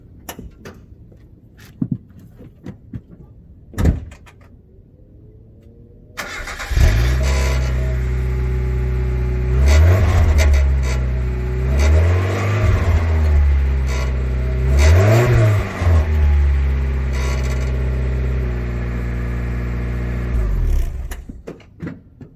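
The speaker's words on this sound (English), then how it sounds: "So we're gonna get a sound test to starting it and revving it up." A 1991 Mazda Miata with a rusty, rattly exhaust cranks and starts after a few faint knocks, then settles into a steady idle broken by several sharp revs that rise and fall before it cuts off.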